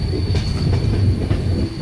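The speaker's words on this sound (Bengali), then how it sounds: "এর ভিতর দিয়ে ট্রেনটা যাবে।" A train runs loud and close as it enters a tunnel through hills, giving a continuous heavy rumble with a steady high whine from the wheels and no talk.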